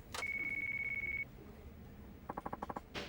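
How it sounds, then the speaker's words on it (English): A mobile phone in the game Yakuza 5 gives a sustained electronic beep, then a quick series of short rhythmic ringing pulses, faint and alone. "That your phone? Better see who it is."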